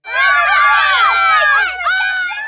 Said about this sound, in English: When a scene in a movie, TV show, or a radio play or radio ad needs kids playing and cheering, odds are good that you're going to hear.